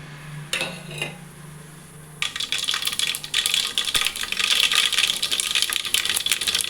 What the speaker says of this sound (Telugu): ఇప్పుడు ఆవాలు జీలకర్ర మెంతులు వేసుకోండి